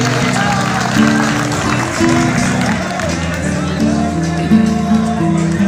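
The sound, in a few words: audience applause at college program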